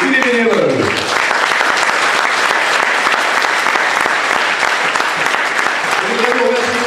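Warm audience applause at a local French stage show, a dense, steady clapping that fills the whole stretch, with a speaking voice briefly at the start and again at the end.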